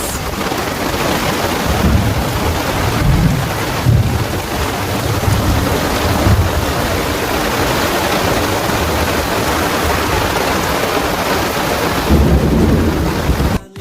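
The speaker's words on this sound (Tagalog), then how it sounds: "So, ayan na nga ang ulan." Heavy rain pours down on a Hong Kong hiking trail near Tai Tam Road, a loud, dense, unbroken roar of drops hitting the ground and foliage from close by, with no voices.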